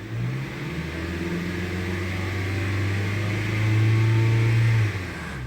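A Honda CR-V engine hums at idle, then revs up to around 3,000 RPM with a rising, steady drone that holds and drops back, heard alone and fairly close.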